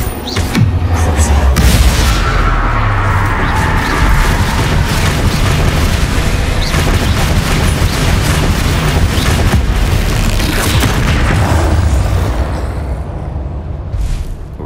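Confringo fire spell explosions in the video game Hogwarts Legacy, loud, continuous booming and crackling blasts that roll on steadily before easing off near the end, with a voice briefly underneath.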